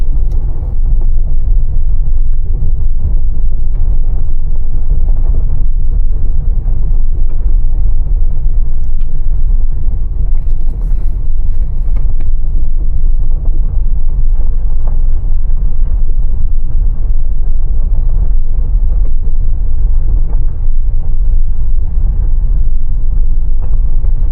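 A 2025 Ford Bronco Sport Big Bend driving on a back road, with a steady, loud low rumble of engine and road noise plus some wind buffeting that holds unbroken throughout, no voices.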